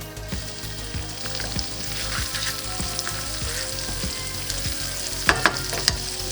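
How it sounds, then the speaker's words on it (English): Sun-dried tomato and basil sizzling in melted butter and olive oil in a pan, a steady loud crackle broken by repeated soft utensil scrapes and a few sharper pops, with no talking. "now it's time to put sun-dried tomato and the basil in"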